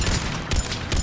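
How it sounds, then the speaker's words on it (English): Weapon fire in Mass Effect 3, three heavy booming shots in quick succession, loud and close over a rumbling game backdrop. "I can shoot through some cover"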